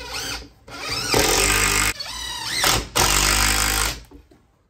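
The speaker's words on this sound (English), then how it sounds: "Now we're just gonna secure it with a couple pocket holes on each end, and then I put 1 screw right in the middle." A power drill drives pocket hole screws into a wooden bench frame in several long bursts, with loud whirring and whining pitch sweeps and short pauses between screws.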